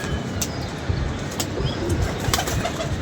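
Pigeons coo and flutter nearby, with soft repeated calls and occasional sharp wing claps over a steady, noisy background.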